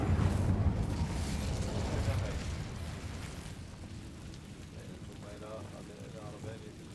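Incendio fire spell cast in the Hogwarts Legacy video game: a loud roaring, rumbling burst that gradually fades to a lower sustained rush, with a voice talking over it.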